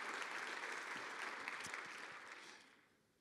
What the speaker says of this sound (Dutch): Kom er gauw bij en geef hem hartelijk applaus door Klaas Seidsma.